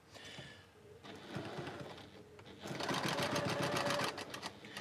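Sewing machine running in steady rapid bursts as it stitches a quarter-inch seam through quilt fabric with backing, close and fairly loud, the motor speeding up and holding a fast rhythmic chatter toward the end.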